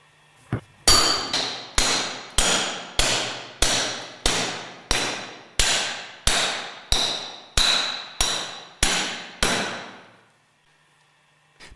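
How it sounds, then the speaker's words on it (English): Hammer blows on a pipe drive a grooved ball bearing onto its seat during overhaul of a Westfalia purifier: about fifteen steady, evenly spaced metallic strikes, close and loud, each with a short ringing decay, then quiet. "Carefully drive the grooved ball bearing with a suitable pipe up to the retaining ring."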